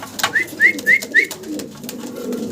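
Blue magpie Danish fancy pigeons coo nearby, four short, evenly spaced coos in quick succession, followed by softer rustling and faint background noise.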